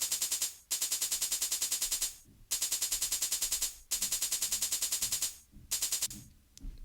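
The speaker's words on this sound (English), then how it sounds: "It's a very simple hi-hat pattern." Rapid, crisp hi-hat rolls rattle in fast repeating bursts with brief gaps, a busy electronic drum pattern with faint low kicks underneath.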